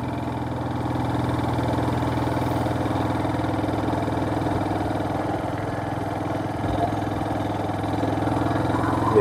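A motorcycle engine runs steadily on a night ride through forest tiger country, a continuous mid-pitched drone with a low throb, close and even throughout.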